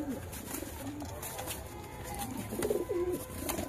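Pigeons in a loft coo in soft, low, repeated phrases, several birds near and a little apart, the calls rolling over a quiet background with no talk.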